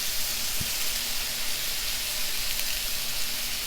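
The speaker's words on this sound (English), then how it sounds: "I'm just going to lay the steak on the buttered part of the griddle" A ribeye steak sears on a hot buttered griddle, giving a steady, close, even hiss and sizzle that holds at one level throughout, with no voices.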